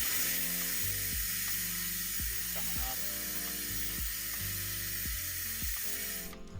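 A vacuum pump evacuating a Mercedes W220 S-Class coolant system runs with a steady, loud mechanical hum and a rhythmic clicking pulse, continuously, with no voices.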